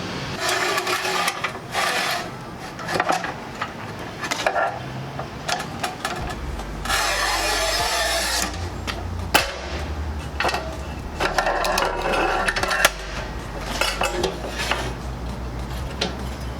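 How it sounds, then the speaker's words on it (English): A 24-inch manual tile cutter scoring and snapping a tile in a cross cut: rattling metallic clatter and scraping strokes up close, with a steady low grinding hum in the middle and sharp clicks along the way. "But first we will cross cut this with the 24-inch tile cutter."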